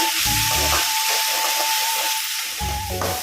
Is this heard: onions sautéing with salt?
yes